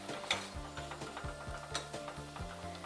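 Garlic, tomatoes and lentils simmer together in a pot with a constant soft sizzle, under regular close scraping strokes as the mixture is stirred.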